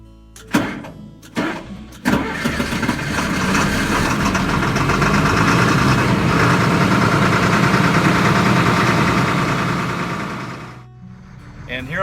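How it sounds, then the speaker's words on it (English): A military LMTV truck engine cold starts, cranking in a few bursts before catching into a loud, rough diesel idle that holds steady and then cuts off, close by. "Everybody likes a cold start."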